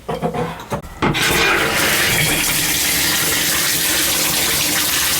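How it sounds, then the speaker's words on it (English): After a few clunks, water bursts on and gushes loudly and steadily from a rebuilt Symmons tub shower valve, a close, full hiss filling the rest of the clip. "we'll turn the water on,"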